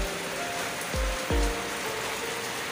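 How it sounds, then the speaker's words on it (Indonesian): Steady rain hisses across the whole clip during a wet motorcycle ride, with a couple of brief low thumps from the bike partway through; nobody speaks. "Lama kan nggak main hujan-hujanan nih"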